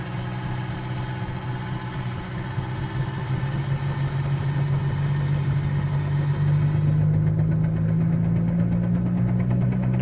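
A Bell 47G two-bladed helicopter rotor spinning up after the governor engages, a steady low mechanical drone with a rising pitch and a faint rhythmic thump under a loud idling piston engine, close and continuous.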